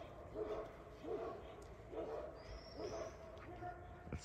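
Livestock guardian dogs bark at night at a farm dog rescue, a series of moderate, evenly spaced barks heard at some distance over steady background noise.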